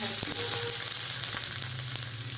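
Oil sizzles on a hot tava griddle while thalipeeth is being made, a steady close hiss with scattered small pops.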